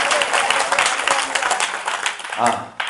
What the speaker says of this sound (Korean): 우리 하나님께 영광의 박수 한번 올려 드리겠습니다